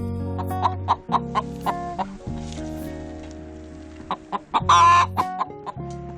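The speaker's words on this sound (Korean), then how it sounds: "밤중이라 그런지 써니의 울음소리가 더 크게 들리는 것 같다." A hen clucks at night: a run of short, sharp clucks, close and loud, then a longer drawn-out call near the end, with soft rain-like hiss in the background.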